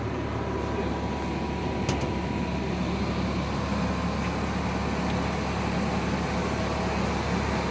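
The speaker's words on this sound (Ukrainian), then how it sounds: "Цей канальний вентилятор продуває повітря скрізь котел" A duct fan blows air through an ILMAX AIR-3 pellet air-heating boiler heating a 350 m² workshop, giving a loud, constant broadband roar with a low hum and no pauses.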